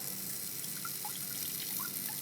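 TOTO Washlet+ bidet on a Nexus S7 toilet spraying a thin stream of water onto a hand, a faint, continuous trickling splash with small drips, close and soft, no one speaking.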